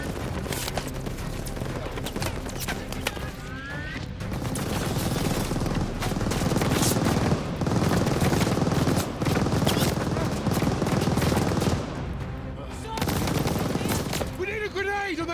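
Enemy machine gun fire in the Call of Duty Vanguard Normandy 1944 mission, loud sustained bursts of rapid gunfire with explosions, a brief pause, then more firing, while voices shout over the battle.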